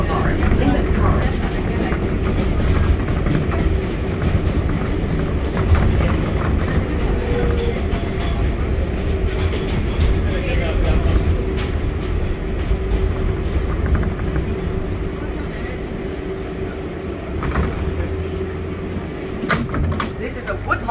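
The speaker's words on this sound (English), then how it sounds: "This is a Woodlawn bound four train." An R142A 4 train pulls out of Bedford Park Boulevard–Lehman College subway station, a loud steady rumble with rattling wheels and a door sound, while a recorded announcement voice talks over it.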